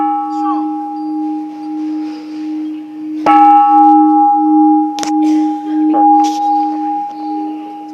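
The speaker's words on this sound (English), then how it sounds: "Anyone can ring the bell." A large bell at a Buddhist site in Yangon, Burma, struck once and left to ring, its steady sustained hum swelling again with a couple of further strikes, loud and close with no speech.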